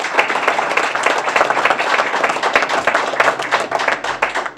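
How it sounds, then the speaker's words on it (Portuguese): Applause for colleagues seated at a head table during an announcement about an agreement with CITGO: a smaller group clapping, with distinct individual claps audible in an uneven, lively rhythm, fairly close and loud, no one talking. "Em primeiro lugar, forte aplauso para nossos colegas de mesa."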